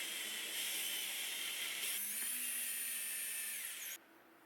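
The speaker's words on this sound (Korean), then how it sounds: "태핑 비트를 이용해서 6mm 나사 구멍을 만듭니다." A tapping bit cuts a 6mm threaded hole for a lead screw nut in a homemade router lift. A steady, high, close drill whine runs for about four seconds, shifts pitch slightly partway through, then cuts off abruptly.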